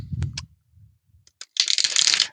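Cards shuffled during a spread: a few sharp clicks and soft rustles, then a dense, bright, riffling flutter lasting about a second, close by and with no talk.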